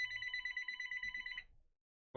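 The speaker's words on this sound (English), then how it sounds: "Got a phone ringing." A telephone rings with a rapid, trilling electronic bell pattern that runs for about a second and a half, fairly clear, then cuts off into silence before a brief sound at the end.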